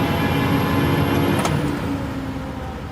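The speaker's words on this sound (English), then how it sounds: "Now you can also hear the turbo." A Scania 143 500 truck with a 14-litre 500 hp DSC14 V8 runs hard on a dyno, a loud steady engine roar with a thin high turbo whine that falls away partway through.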